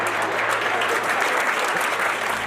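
An audience at a motivational talk claps in dense, steady applause that holds evenly for a few seconds.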